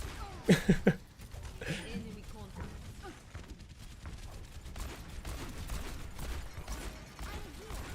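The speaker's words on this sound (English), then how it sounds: "Good flashbang." A flashbang grenade goes off during an Overwatch match as a quick cluster of sharp bangs early on. Busy game noise and talking voices continue afterward.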